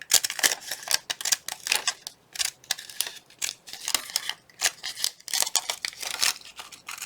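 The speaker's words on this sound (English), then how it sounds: "I'm just going to cut the back flap off just to close it back up again" Scissors cut the back flap off a paper Christmas card. Rapid snipping clicks sound close and crisp in uneven bursts, with short pauses between runs of cuts.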